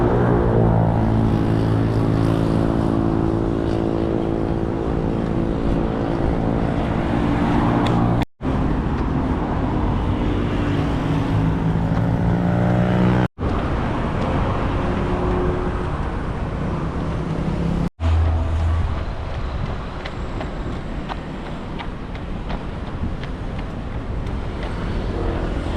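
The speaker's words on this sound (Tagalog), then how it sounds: "Maraming sasakyan." Heavy highway traffic seen from an overpass on an evening run, a continuous loud rush of many passing vehicles with rising and falling engine tones, no talking.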